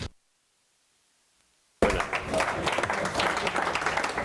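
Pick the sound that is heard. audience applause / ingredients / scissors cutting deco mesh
audience applause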